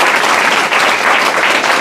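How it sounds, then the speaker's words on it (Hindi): An audience at an Indian direct-selling marketing seminar applauds, a dense, loud burst of many hands clapping together, sustained and close throughout. "ताली तो बजा दो एक बार यार।"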